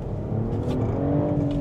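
A 2024 BMW X5 50e xDrive plug-in hybrid SUV accelerating, its petrol engine giving a steady rising hum with a faint climbing whine, heard from inside the cabin over continuous road noise.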